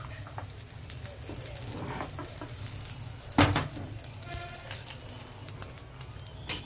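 Tadka for pappu with bottle gourd sizzles steadily in a hot frying pan, with a constant crackling hiss and one brief louder clink partway through.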